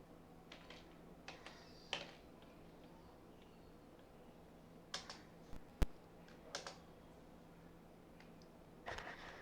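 Scattered soft clicks from a computer keyboard as text is typed into PowerPoint placeholders, irregular and faint, with short bursts and gaps over quiet room hiss and no talking.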